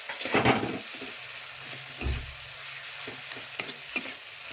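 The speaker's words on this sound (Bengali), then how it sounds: "এখন নেড়ে চেড়ে একটু ঢেকে দিচ্ছি।" Tomato fries in a pan while being stirred, a low continuous sizzle broken by several scraping strokes and a couple of sharp clinks from the spoon, quiet and close, with no talking.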